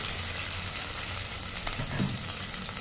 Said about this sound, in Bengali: আমি এটাতে একটু জল দিয়ে দিচ্ছি। অল্প একটু জল দিলাম।